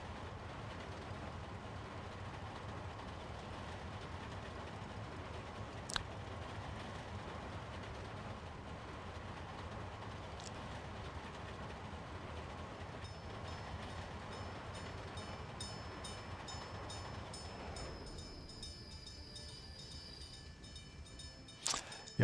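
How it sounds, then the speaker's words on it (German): A Schienenbus rail bus runs along the track at about 80 km/h, a continuous near rumble with rhythmic wheel clatter. Near the end the tone shifts and a few sharper knocks cut through. "Ja, der Schienenbus, der fährt 80 Stundenkilometer"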